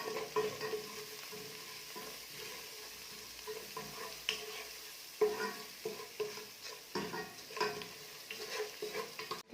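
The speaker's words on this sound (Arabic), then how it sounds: "نحط شويه فلفل الكحل وشويه ملح نقعد نخلط كيما هكا" Green beans seasoned with black pepper and salt being stirred in a pan, with a soft steady sizzle under repeated scraping strokes, several louder stirs near the end, close and alone.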